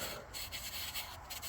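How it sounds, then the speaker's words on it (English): Sandpaper cubes scuff the lacquer finish on a Harley Benton DC-600 VI guitar in short, quiet rubbing strokes, a soft close-up scratching with brief pauses between passes and no speech. "So I got my sandpaper here into cubes, and we're just going to scuff that up a little bit."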